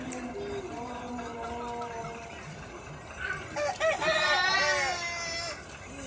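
Ornamental chickens at a breeding farm, with clucking and calling in the first half, then a loud, drawn-out rooster crow rising over the farmyard near the end.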